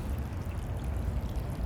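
Water trickling and pouring from the top of a rock fountain in a garden, a steady close splashing flow with no talk over it.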